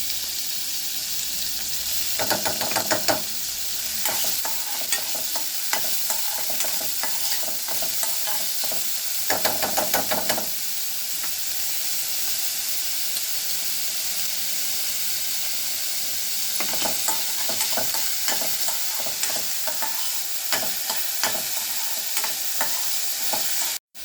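Chopped onions frying and being stirred in hot oil for ragda chaat, a steady close sizzle with repeated scraping stirs in bursts, no talking.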